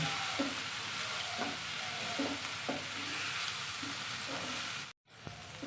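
Leftover rice being stirred and fried in a pan, a steady close sizzle with soft scraping strokes repeating about once a second, then a brief cut to silence before the sizzle resumes.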